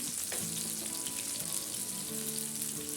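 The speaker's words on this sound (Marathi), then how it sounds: "तवा फिरवून फिरून फ्राय करून घ्यायचे पापलेट" Steady, close sizzling of pomfret frying in oil in a pan, a continuous crackling hiss with no voices.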